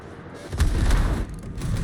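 Naval gunfire in World of Warships: a heavy, rumbling boom that swells and lingers over about a second, with no voices.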